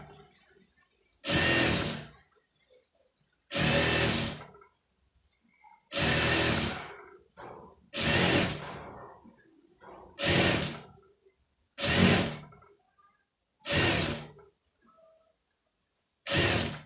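A sewing machine runs stitches onto piping for a neck piece, in eight short even bursts about two seconds apart, each stopping into near silence, close and fairly loud.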